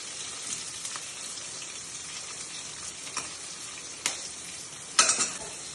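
Mustard seeds and fenugreek fry in hot oil for lemon rice, a steady close sizzle with small sharp pops and crackles that grow louder and more frequent toward the end.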